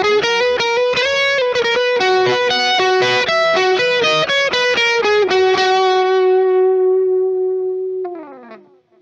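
An electric guitar runs through a T-Rex Replicator D'Luxe tape echo in long mode with a fast tape setting, paired with a distortion pedal. A run of distorted notes and chords ends on a long sustained note that decays, then a brief squeal.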